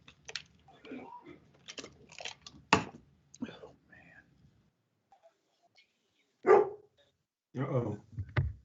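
Dog barking during a board meeting, several loud sharp barks in bursts with quiet gaps between them, fairly close, mixed with faint murmuring and room noise.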